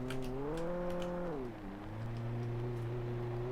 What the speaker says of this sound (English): The engine is making some concerning sounds.